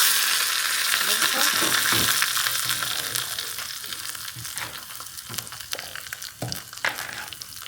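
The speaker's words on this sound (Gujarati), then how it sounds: "દાળનો બસ વઘાર કરવાનો છે" Dal tempering (vaghar) with asafoetida sizzles loudly in hot oil, a steady broadband fry with scattered crackles and spoon scrapes that gradually eases off over several seconds.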